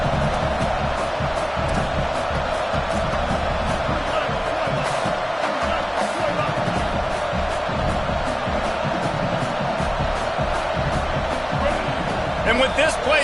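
A loud stadium crowd roars and cheers continuously at a college football game, the dense wall of noise holding steady throughout with no clear voices breaking through.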